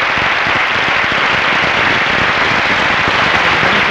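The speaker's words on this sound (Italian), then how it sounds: "volevo chiederti di scendere questa scala un'ultima volta per l'applauso del nostro pubblico" A studio audience applauds for Verónica Castro on an Italian television show, with dense, steady clapping filling the room from start to finish and no voices over it.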